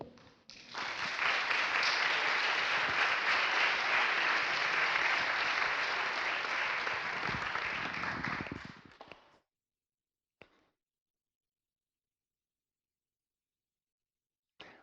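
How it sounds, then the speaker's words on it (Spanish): Loud, sustained audience applause at a live event, many hands clapping steadily for about eight seconds before fading out abruptly, followed by near silence with a couple of brief faint knocks. "Démosle un fuerte aplauso."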